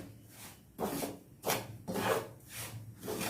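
Roasted semolina is stirred with coconut powder for laddu, giving rhythmic scraping and rubbing strokes, about six passes of a spoon against the pan, soft and close with no talk.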